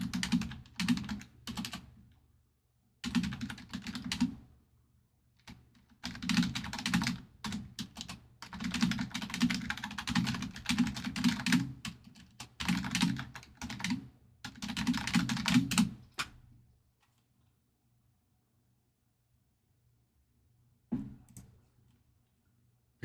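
Rapid typing on a computer keyboard comes in several bursts of quick clicking separated by short pauses, close and clear, then stops into near silence with one brief final flurry of keystrokes.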